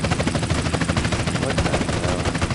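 Dense, continuous gunfire from police in GTA San Andreas rattles without pause, loud and close throughout, with no voices over it.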